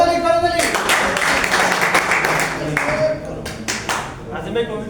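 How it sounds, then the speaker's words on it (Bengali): A crowd at an office celebration at a head office claps for several seconds, with voices mixed in over the applause. "করতালি।"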